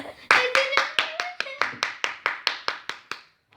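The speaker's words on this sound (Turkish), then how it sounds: "Hadi alkışlayın." Rhythmic clapping to honor a winner sounds as about fourteen sharp, evenly spaced claps in a steady beat, close and loud, with a short sung or spoken voice under the first few.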